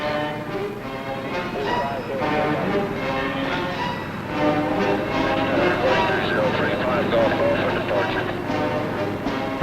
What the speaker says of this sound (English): the copters take off to fan out toward the various training fields or stage fields scattered throughout the countryside